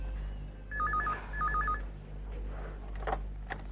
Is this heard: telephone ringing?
yes